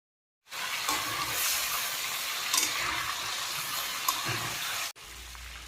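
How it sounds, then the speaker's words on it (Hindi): Chicken frying in a karahi with salt, a steady close sizzle that runs continuously with a few louder crackles and stirring scrapes, cutting off abruptly near the end. "चिकन को हम उस वक्त तक फ्राई करेंगे जब तक कि इसका कलर चेंज नहीं हो जाता।"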